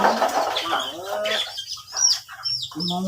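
Chickens cluck in loud, close bursts on a rural farm, with a few birds calling over and among one another throughout.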